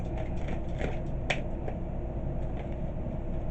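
Cards shuffled in quick succession, a steady papery rustle with small flicking clicks, close by and fairly quiet, with no one talking.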